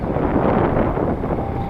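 Steady wind buffeting a microphone outdoors on a hot afternoon in downtown Bacolod near 888 Chinatown, a continuous broadband rumble that stays loud and even throughout, with no talking.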